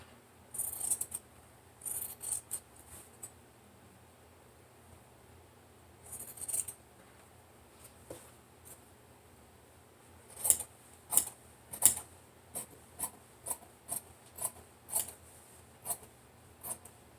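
Scissors trimming the seam allowance of interfaced fabric down to a quarter inch, a few sparse snips early on and then a quick run of crisp, close cuts in steady rhythm, with no talking.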